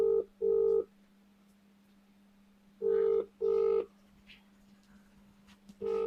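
Mobile phone ringtone ringing during an interview, paired electronic tone bursts repeating in short double pulses with pauses between, clear and close over a low steady hum.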